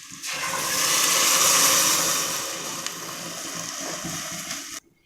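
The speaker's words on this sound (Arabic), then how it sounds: "هننزل عليها بالمية المغلية." Boiling water pours into a pot of sautéed meat and spices, a loud, steady hissing splash that swells and then eases before stopping abruptly, heard on its own without speech.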